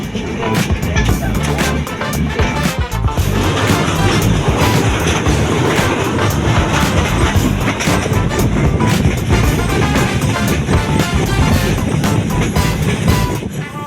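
A passenger train runs near Panchagarh, its loud steady rumble and clattering wheels heard up close from inside, continuous throughout.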